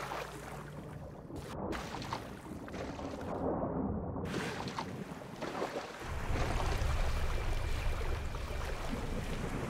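Steady rush of ocean waves and wind in the survival game Project Castaway, a continuous washing surge with heavier low swells building in the second half, with no talking.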